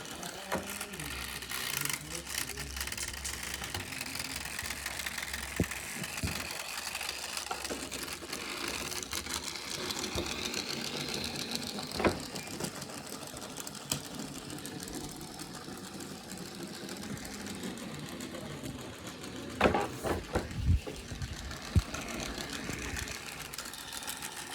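A homemade robot crab walks with its gears whirring and rattling in a continuous mechanical buzz, punctuated by a few clicks and knocks, at a moderate level.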